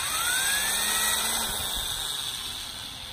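A power drill bores out rivets on a Carver Bimini top fitted to a Catalina 22 sailboat, a high whining spin that rises in pitch, then slowly winds down.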